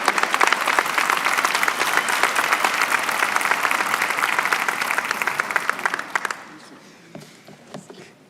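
An audience at a university health sciences convocation gives sustained applause for pharmacy, dental hygiene and dentistry graduates. The dense clapping runs about six seconds and then quickly dies away to a few scattered claps and room noise.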